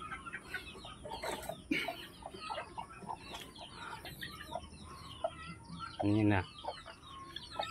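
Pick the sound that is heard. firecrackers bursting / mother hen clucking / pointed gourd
mother hen clucking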